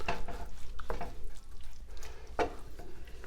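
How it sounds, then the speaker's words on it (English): A Frito chili pie mixture being stirred in a pot, with a spoon scraping and knocking against the pot in an uneven rhythm over a low simmering hiss, close and clear, without speech. "you can just keep mixing to get it well blended until it's well incorporated"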